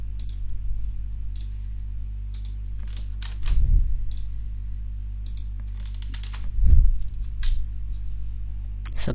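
Computer keyboard typing while writing Python code, with irregular clusters of key clicks over a steady low mains hum and two heavier thumps of keystrokes, close and fairly clear.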